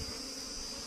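A dense swarm of honey bees hums steadily and close, a continuous buzzing drone with no pauses, heard alone without any talk.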